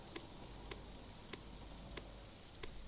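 Steaks sizzle on a grill in Fast Food Simulator, a soft, even hiss that stays faint throughout, broken by a few evenly spaced light ticks.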